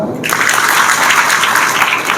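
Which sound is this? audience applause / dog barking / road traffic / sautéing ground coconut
audience applause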